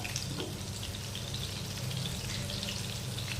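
Pakoras frying in oil for their second fry, a steady bubbling sizzle close by, moderately quiet and without talk.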